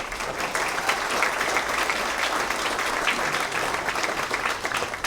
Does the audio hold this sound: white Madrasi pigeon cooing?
no